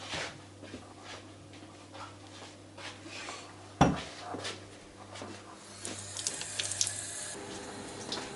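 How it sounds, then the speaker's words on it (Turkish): Running tap water splashes over something being rinsed at a kitchen sink, a steady stream with clatters near the middle and a louder splashing spell toward the end, with a faint dog whimper in the background. "Bir yıka bakalım onu."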